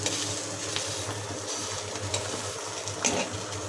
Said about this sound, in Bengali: এই যে দেখুন শুটকি ভাজছি।